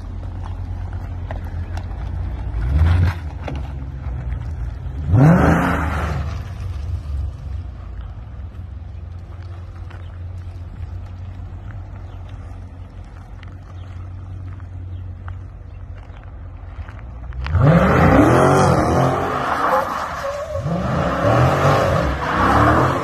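A Dodge Challenger 392 on 24-inch mud tires revs in short bursts, then spins its tires through mud in a longer loud, rising roar with sloshing, heard at moderate distance over steady background rumble.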